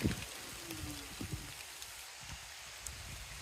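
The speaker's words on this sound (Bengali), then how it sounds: "আমাদের এলাকায় বৃষ্টি নামলে পরে কোন দিক থেকে বৃষ্টিটা ধেয়ে আইতেছে এটা বোঝা যায়" Rain moving in over a Bangladeshi village: a faint, steady hiss of distant rainfall with a few soft patters, heard alone with no voices.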